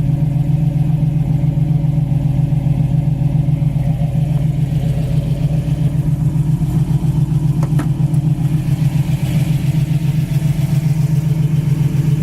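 A 1967 Chevy Camaro with aftermarket exhaust idles steadily, a deep, even rumble with a constant low throb and a slight rise around the middle, close and alone with no talk.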